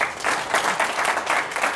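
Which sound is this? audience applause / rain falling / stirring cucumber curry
audience applause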